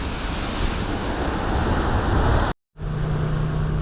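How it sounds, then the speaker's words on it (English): Hurricane Ian roars through North Port, Florida as a steady, loud wall of wind noise that breaks off for a moment and then returns, with a generator's low hum running underneath the gusts. "I got the generator running and a hurricane roaring in the background,"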